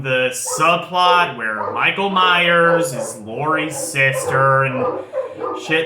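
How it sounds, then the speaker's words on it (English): Dogs bark and yip now and then under continuous close male speech. "Sorry about the dogs"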